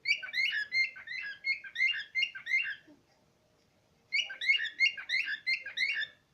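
A pet bird chirps at its own reflection in a mirror, quick bright chirps and twitters in close rapid bursts, a pause of silence, then another burst of chirping.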